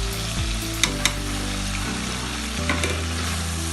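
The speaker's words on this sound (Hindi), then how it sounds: "अब इसमें ये मैं हरी मिर्चें डाल रही हूँ और अदरक छोटी छोटी काट के" Green chillies and chopped ginger hit the oil in a beef karahi, giving a loud, steady sizzle with a couple of sharp spatula clicks and a low background hum, no speech.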